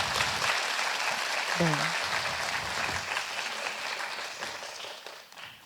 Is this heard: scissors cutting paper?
no